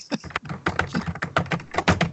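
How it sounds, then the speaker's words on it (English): Fast typing on a computer keyboard, a dense run of close, crisp key clicks in uneven bursts with brief pauses, loud and alone without talk. "I can hear the keyboards now"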